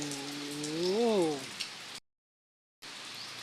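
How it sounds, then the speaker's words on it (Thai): Steady broadband hiss of heavy out-of-season rain pouring down on a road in Thailand, with a passing engine hum rising and falling, then a brief cut to silence before the rain resumes. "ฝนตกผิดฤดูนะครับ มาดูแรงฝนตกนะครับ"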